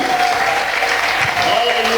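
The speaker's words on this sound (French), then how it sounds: "je vous demande d'applaudir le Seigneur Jésus" A congregation applauds in church, a sustained, dense wash of clapping close by and loud with no pauses.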